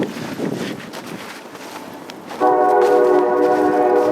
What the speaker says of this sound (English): The train! The train!